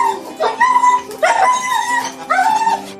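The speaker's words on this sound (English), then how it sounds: "this dog makes a very odd series of sounds." A dog whimpers and yips in three rising, squeaky bursts on being reunited with its owner after months apart, the high whining cries close and fairly loud with brief pauses between them.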